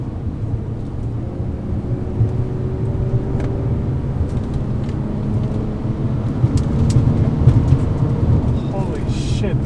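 A 2003 Infiniti G35 sedan with a five-speed automatic pulls hard in third gear up a winding mountain highway, its steady engine drone and road rumble filling the cabin and swelling slightly near the end, with a voice talking over it.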